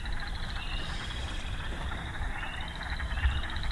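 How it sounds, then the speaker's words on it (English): Frogs call in a bog in early May at Sax-Zim Bog, a steady chorus of faint, distant croaking and clucking notes, like little weird chickens, layered over a continuous background hum with no voices. "These are actually the first frogs I've heard all year."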